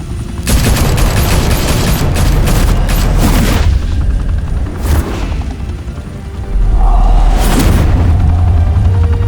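Heavy gunfire and deep explosions in the Telltale Batman video game, with loud continuous volleys, booming blasts and rumbling that swell and dip across the stretch.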